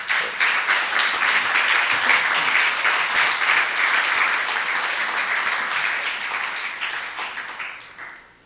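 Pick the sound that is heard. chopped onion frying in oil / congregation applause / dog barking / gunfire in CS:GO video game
congregation applause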